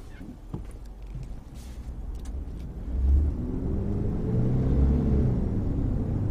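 A 2000 Mitsubishi Pajero Super Exceed reversing, its engine rumbling low and steady from inside the cabin, swelling slightly as it moves back, with faint clicks early on and no voices.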